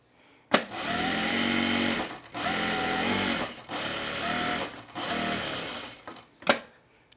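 A sewing machine stitches clothing under repair in four loud, steady bursts of motor whir, each a second or so long with brief pauses between, ending in a sharp click or two.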